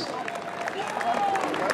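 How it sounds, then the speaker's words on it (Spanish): Audience applause at a jaripeo rodeo event in La Maiza, Michoacán: steady crowd clapping and cheering for about two seconds, with an announcer's voice and music running over it. "Fuerte el aplauso"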